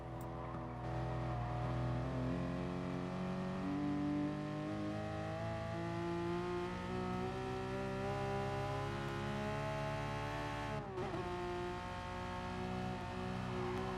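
A race car in Gran Turismo Sport roars under full throttle on the Nürburgring Nordschleife, its loud engine note climbing steadily in pitch, then dropping sharply with a gear change near the end before climbing again.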